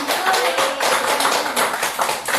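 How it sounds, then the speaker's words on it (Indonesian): Group clapping in a classroom or school workshop session, a fairly close burst of uneven hand claps from a small gathering that keeps going without pause. "Tepuk tangan untuk kita semua."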